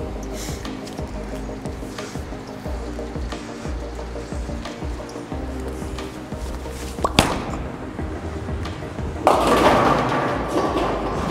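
A Hammer Purple Pearl urethane bowling ball rolls down a lane on a short oil pattern with a steady low rumble. A sharp thud lands midway, followed by a louder, noisy crash of pins.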